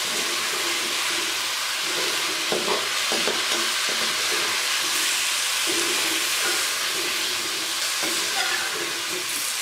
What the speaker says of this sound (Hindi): और अब मैं इन सारी चीज़ों को फ्राई करूँगी।